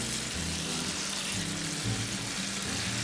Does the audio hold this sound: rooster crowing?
no